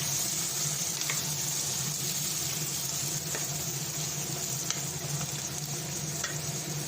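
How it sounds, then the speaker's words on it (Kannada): Pressure-cooked mutton fries with fried onions in a pan, giving a loud, continuous close-up sizzle with scattered small pops and no speech. "ಈಗ ಮಟನ್ನ ಹಾಕಂತ ಇದ್ದೀನಿ. ಈರುಳ್ಳಿ ಫ್ರೈ ಆಯಿತು."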